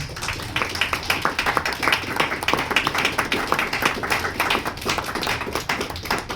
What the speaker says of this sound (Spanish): Les pido otro aplauso, por favor, a los poetas.